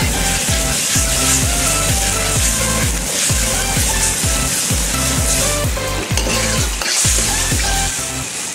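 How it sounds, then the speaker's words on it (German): Vegetables cook in broth in a wok with a loud, steady bubbling sizzle and a strong rhythmic low thumping running through it, close by, with no talk. "Und das Ganze mal 4-5 Minuten ein bisschen köcheln lassen."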